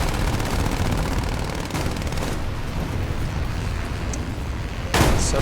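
A He 51 B-2H biplane fires its machine guns in an arcade air battle, a continuous loud rattle of rapid shots over engine drone, ending in a sharp burst.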